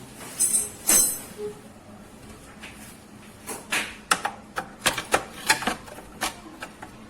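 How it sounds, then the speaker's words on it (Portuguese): A Phillips screwdriver clicking while backing out a small screw on a motorcycle part: a few scattered knocks early on, then a quick run of sharp, close clicks in an uneven rhythm near the end, with no talking. "É uma chave Phillips. Eu vou estar clicando aqui rapidão"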